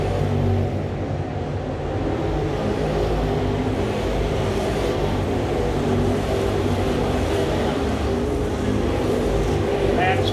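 Dirt late model race cars roar around a dirt track in a touring series feature at Cochran Motor Speedway, a continuous heavy engine drone with passing swells, while an announcer's voice calls the race over the noise.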